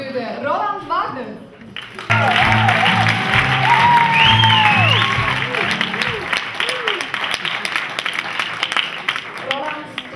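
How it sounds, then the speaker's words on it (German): At a talent show, an audience bursts into loud sustained applause with cheering and whistles, after which the clapping tapers off into scattered claps, with a voice speaking over the start and the end. "Und herzlichen Applaus für den Roland Wagner."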